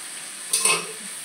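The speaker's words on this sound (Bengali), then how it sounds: "এবার এখানে দিয়ে দিলাম গাজর আর কড়াইশুঁটি।" Carrots and green peas drop into a hot frying pan for a malai curry, giving a short burst of sizzling and stirring that swells for about half a second over a steady background hiss, then settles back.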